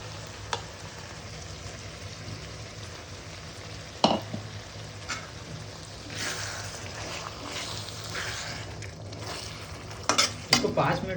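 A Chicken 65 mixture is stirred into a hot frying pan, with a steady sizzle under scraping strokes of a spoon and a few sharp metallic knocks against the pan, close up and with no talking.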